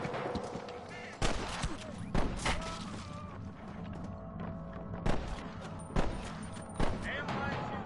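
Gunfire in Red Dead Redemption: scattered sharp shots and thuds crack out at irregular intervals over a busy battle background, with voices talking in the mix.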